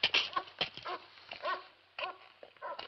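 A dog whimpers and whines close by in a quiet room, a run of short, high, pleading cries broken by brief pauses and one longer silence.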